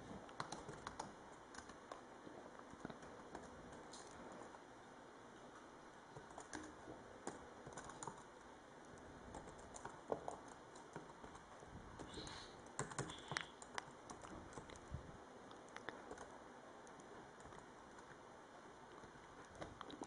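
Computer keyboard being typed on at a steady, soft patter of small clicks, quiet and close, with a faint background hiss and no voices.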